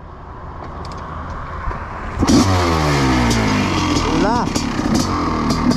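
A Honda 500 CR supermoto motorcycle engine catches about two seconds in and revs loudly with rising and falling sweeps, close by, after a brief spoken word over idle rumble.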